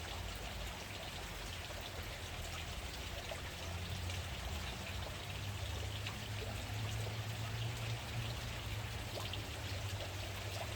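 Pool water pours and trickles steadily into a small test tube for a chlorine check at a newly started backyard pool, a continuous close liquid splashing with no talk.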